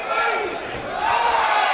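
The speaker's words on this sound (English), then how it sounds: "listen to the crowd here, Chris, as they exchange punches" A crowd roars and cheers at a super-heavyweight kickboxing fight between Kerone Davis and Rick Browne, a loud continuous swell of voices that rises slightly toward the end.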